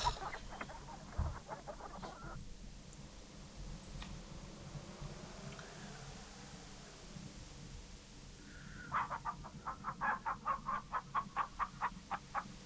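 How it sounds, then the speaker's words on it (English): Chickens clucking in the King's Quest III remake by AGD Interactive, a fast run of short repeated clucks at the start, then a quiet stretch over steady game ambience, then a louder rhythmic burst of clucks near the end. "You set the chicken back on the ground."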